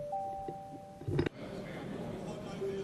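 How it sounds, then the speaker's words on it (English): A bell rings out during a voting call at a Legislative Council committee-of-the-whole meeting on an appropriation bill. A sustained tone gives way to a louder clanging burst, then low room murmur and a speaking voice. "So the bell will be rung for"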